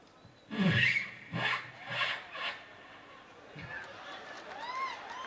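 A voice imitates a jacket zipper being pulled closed with several rasping, scratchy bursts in a row, followed by fainter whistly vocal sounds against a quiet room.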